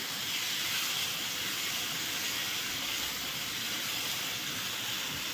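Tomato puree hits hot fried masala in oil with a steady loud sizzling hiss that holds evenly throughout, close and continuous, with no talking over it.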